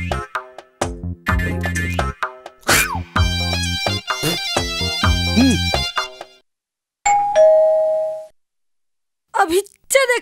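Voices talk and shout briefly, then a single ringing doorbell chime sounds clearly for about a second, followed by a short burst of more talk.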